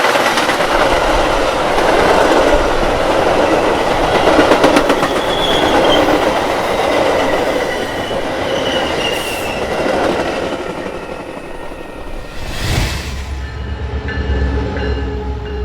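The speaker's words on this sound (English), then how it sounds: "rush hour begins to wind down with another outbound train" An outbound commuter train passes by in Chicago during the evening rush, a loud, sustained rumble of wheels on rails with rhythmic clacking over joints and occasional thin squeals, steady from start to finish.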